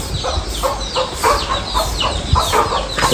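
Several chickens cluck and chatter close by in a busy, overlapping stream of short calls.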